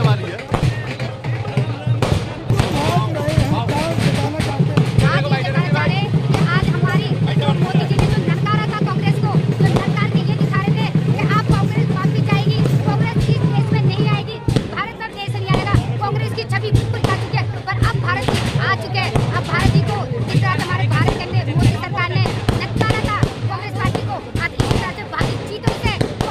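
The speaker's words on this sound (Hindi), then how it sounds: "एक तरफ आतिशबाजी हो रही है" Fireworks crackle and pop at the Congress headquarters in Delhi during a Karnataka election win celebration, a dense continuous barrage of bangs mixed with loud crowd noise and talk throughout.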